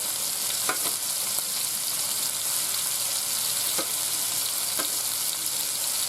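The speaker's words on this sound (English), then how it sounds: "I just got 2 more in my pan over here. Hope I'm not splattering grease up onto my lens." Meatballs frying in a greasy pan on the stove give a constant dense sizzle, close and steady, with a few sharper pops and spatters breaking through; no speech.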